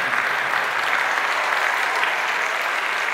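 A live concert audience applauds in a dense, even roar of clapping that holds steady throughout with no talk.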